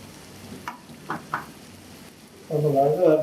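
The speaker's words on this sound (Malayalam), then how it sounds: "ഒന്ന് വഴന്ന് വരട്ടെ" Salt goes into a pan of sautéing ingredients for Goan chicken cafreal; a few soft stirring knocks come first, then a loud, steady sizzle of frying swells up near the end.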